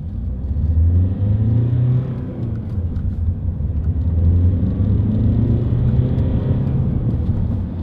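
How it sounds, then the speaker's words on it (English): A 2011 Vauxhall Astra 2.0 CDTi ecoFLEX diesel pulls hard from inside the cabin, its low engine drone rising and falling through the gears over rumbling road noise. "Torquey engine."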